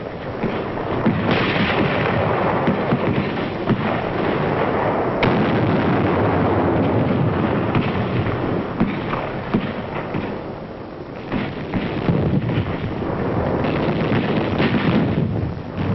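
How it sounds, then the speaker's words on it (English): A 1944 wartime naval artillery barrage ahead of the beach landing at Kwajalein rumbles as a dense, continuous roar of distant gunfire and blasts on a muffled, band-limited recording. "It took only a few moments of firing to empty these shell cases."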